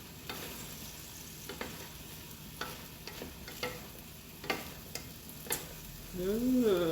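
Cabbage is stirred into a sizzling Chinese-style stir-fry, with a steady frying hiss and irregular spatula taps against the pan, and a brief voice near the end.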